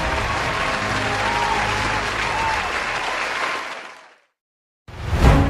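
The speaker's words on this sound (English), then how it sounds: "Let's welcome him with a sounding applause." An audience at an evening event breaks into dense, steady applause welcoming a speaker, holding for about four seconds before fading to silence, then a brief loud burst returns.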